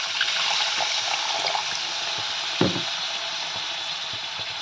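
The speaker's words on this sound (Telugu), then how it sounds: "ఇప్పుడు ఇందులో కొద్దిగా వాటర్ వేసుకోవాలి." A small amount of water is poured into a thick paneer and cashew gravy in a pan, giving a close, steady splashing trickle with a brief thump partway through.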